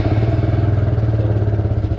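A motorcycle engine idling close by with a steady, throbbing low pulse and rapid even firing rhythm, loud and continuous with no talk over it.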